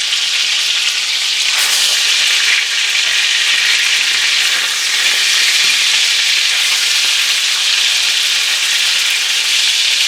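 Burger patties for gluten-free, dairy-free Salisbury steak fry in hot oil in a pan, giving a loud, steady sizzle with crackling spatters that runs without a break and without any talk.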